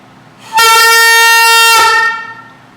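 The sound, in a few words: saxophone played with too much mouthpiece in mouth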